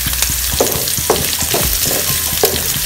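Garlic, onion, curry leaves and pandan sizzle steadily in hot oil, with a dense continuous hiss broken by repeated stirring scrapes and clicks. Close and fairly loud, with no talking.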